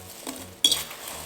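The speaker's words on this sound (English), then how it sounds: "I'm going to mix the sugar mixture and into the apples" Sliced apples tossed with a sugar mixture in a bowl for a homemade apple pie: a soft rustle of stirring, then one sharp clink of a utensil against the bowl partway through, followed by quieter mixing.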